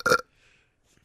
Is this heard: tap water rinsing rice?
no